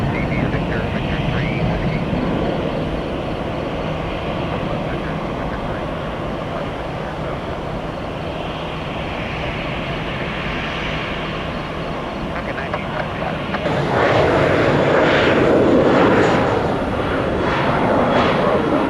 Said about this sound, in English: American Airbus 321 blastoff.